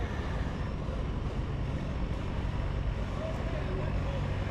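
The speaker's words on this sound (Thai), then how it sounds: "ที่จะมาใช้ เรือหางยาวแบบนี้" Thai longtail boat engine on the Chao Phraya river, a loud, steady, rough drone that stays constant and close for the whole stretch.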